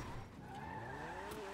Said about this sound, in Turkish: araba bir drift arabası diyebilirim çünkü çok güzel kayıyor arkadaşlar